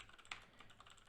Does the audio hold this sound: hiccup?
no